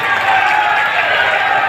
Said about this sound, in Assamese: এটা ডাঙৰকৈ হাত চাপৰি হ'লে আমি খুব বেছি ভাল পাম